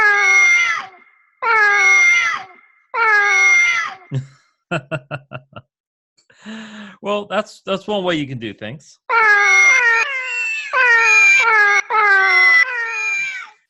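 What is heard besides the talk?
many cats meowing, layered sampler sounds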